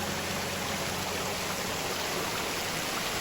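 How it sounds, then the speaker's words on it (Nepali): A small waterfall and a seasonal river stream in Nepal, running low on water, make a steady, close rushing wash of water with no talking. "माथि झर्ना त देखिँदैछ"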